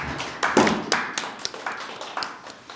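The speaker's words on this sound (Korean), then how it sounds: "다시 한번 박수 부탁드리겠습니다." Audience applause at a political panel session on presidential impeachment and constitutional reform, a sparse, uneven round of clapping from a small crowd with distinct individual claps.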